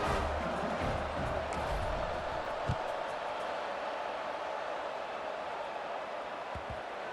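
Stadium crowd in the EA Sports College Football 26 game, Miami at home, a broad steady roar of cheering and murmur that holds evenly throughout with a few faint thumps beneath.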